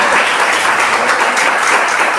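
A church congregation applauds during a sermon, a dense, loud, continuous wash of clapping that fills the whole moment with no one speaking over it.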